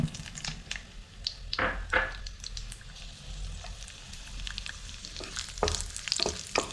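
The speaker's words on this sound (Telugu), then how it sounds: "కిస్మిస్ను వేపుతాను కాగాలి జీడిపప్పు వేపుకున్నాము" Raisins and cashews fry in a pan for semiya kesari, giving a continuous crackling sizzle close by, broken by several sharp stirring scrapes and clinks.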